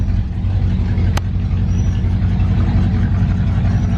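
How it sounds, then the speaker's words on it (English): A Pontiac Catalina engine on a test drive around the block, carburetor being tried out, gives a steady loud low rumble with a brief sharp click partway through. "we're gonna go give her a test drive anyways and see just around the block and see how well the carb works"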